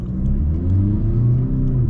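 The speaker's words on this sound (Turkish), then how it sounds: "Burada tekrardan bir 0-100 deneyelim biz." An Audi A3 Sportback 1.6 TDI diesel with S-tronic gearbox accelerates hard from 0 to 100 km/h, its engine droning in a steady loud low rumble that rises slightly in pitch, heard from inside the cabin with no talking.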